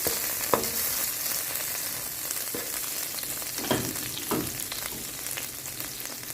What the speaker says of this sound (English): to the pot now we're going to add the remaining tablespoon of butter, and we're just going to allow this to melt slightly